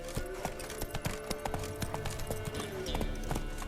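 Roach, a horse in The Witcher 3, pounds along with quick, rhythmic clip-clop hoofbeats close up, while a voice talks over them.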